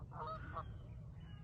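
Geese honk by a lake, giving a brief cluster of faint calls over steady low outdoor rumble before things settle back to quiet ambience.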